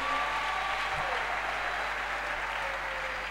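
A church congregation applauding in praise of the Lord, a steady wash of clapping filling the room at even strength from start to finish with no pauses.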